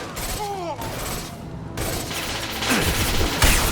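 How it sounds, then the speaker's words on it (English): Rapid gunfire from the Mass Effect 2 video game combat, sharp shots and bursts mixed with battle noise, growing louder and denser toward the end under faint voices. "Firing a high-impact shot!"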